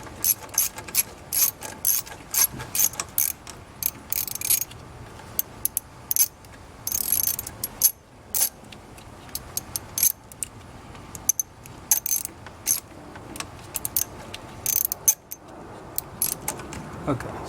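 A hand ratchet turning a socket on two wobble extensions to loosen the dipstick on a 2011 Subaru Impreza, giving repeated bursts of close, clicking pawl ratcheting with brief pauses as someone talks intermittently.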